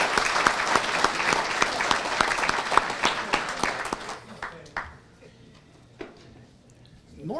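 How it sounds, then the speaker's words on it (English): Audience applauding at a 2017 veterans history event: dense, steady clapping for about four seconds that thins out and fades, leaving scattered claps and a faint voice beginning at the end. "So let's give them a warm round of applause."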